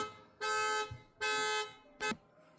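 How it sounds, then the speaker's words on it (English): A car alarm blares close by as the engine starts, sounding three loud harmonic honking bursts, two long and one short, with a quiet pause between each. "my neighbor can't never seem to start his car without having this alarm go off"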